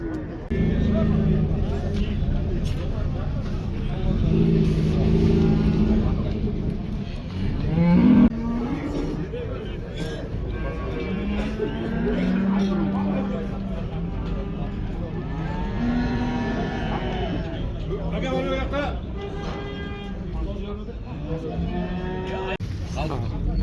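Simmental bulls at a cattle market low repeatedly amid steady crowd noise and engine hum, with people talking throughout.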